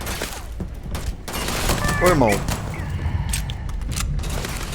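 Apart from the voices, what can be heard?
gunfire in video game Starfield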